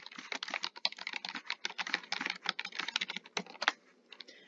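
Fast, steady typing on a computer keyboard, a close, dense run of light key clicks lasting several seconds before thinning out at the end.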